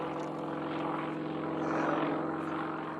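Propeller aerobatic Sukhoi plane with a Russian engine whose prop turns the opposite direction, flying a hammerhead at an unlimited-class aerobatics competition: a steady, moderately distant engine drone that swells slightly midway, with no talk.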